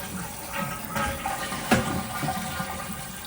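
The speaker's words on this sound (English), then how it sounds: "And then we're gonna flush it." A toilet flushes and begins refilling through its newly replaced fill valve, a steady close rush of water with a sharp clunk partway through as the handle or flapper drops.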